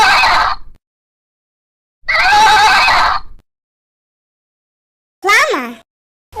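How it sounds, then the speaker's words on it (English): A horse neighs loudly and close by, with two long whinnies separated by silence, followed by a shorter, quavering neigh. "Horse."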